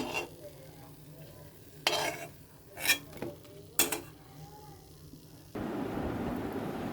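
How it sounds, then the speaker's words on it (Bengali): Ripe jackfruit fritters made with banana and tender coconut are lifted from a frying pan, with three sharp utensil clinks against the pan over a quiet background, followed by a steady, close sizzle of hot oil. "পিঠাগুলো ভাজা হয়ে গেছে এখন টুকটা করে উঠিয়ে নিচ্ছি"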